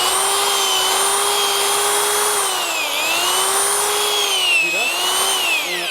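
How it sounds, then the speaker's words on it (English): A power drill turns an auger that bores into soil to install a moisture probe. Its loud, continuous whine runs throughout, with the pitch dipping and rising slightly as the load changes, and no speech is heard. "If you just keep going, the drill just will basically go deeper and deeper until it gets stuck."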